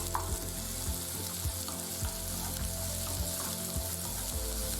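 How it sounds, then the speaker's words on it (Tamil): Shallots and green chillies sautéing in hot oil over a medium flame after mustard seeds have popped, a steady sizzle with rhythmic stirring taps of a spatula against the pan, no voices. "கடுகு வெடித்ததுக்கப்புறம் நம்ம இதுக்குள்ளே ஆட் பண்ணி வதக்கிடலாம்"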